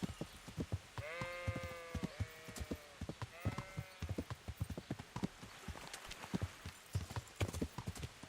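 Horse hooves clip-clopping in the medieval game Kingdom Come: Deliverance, a steady run of close hoofbeats joined by a few drawn-out bleating whinnies.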